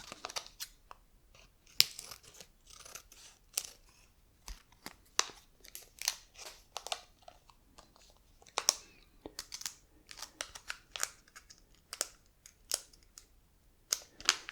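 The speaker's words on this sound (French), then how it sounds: "le ciseau." Scissors cutting open a package for a microphone unboxing, with irregular crisp snips and crinkling plastic close by, quiet between cuts, no talk.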